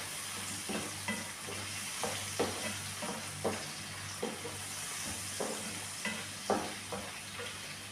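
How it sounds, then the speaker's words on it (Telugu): Tomato and carrot pieces frying in a pan for a Telugu carrot fry, a steady sizzle with a low hum beneath and regular scraping stirs, close and moderately loud, with no talking. "వేసుకొని వీటిని కూడా బాగా కొంచెం 2 minutes ఫ్రై చేసుకోండి."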